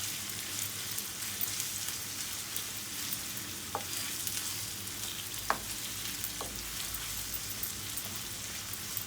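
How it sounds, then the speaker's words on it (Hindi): Onions sizzle steadily in hot oil for a restaurant-style qeema chaney, a dense crackling hiss throughout with a few sharp pops, close and alone with no talk. "यहाँ पर हमारा ऑयल गरम हो गया, अब मैं इसके अंदर प्याज शामिल करने लगी हूँ।"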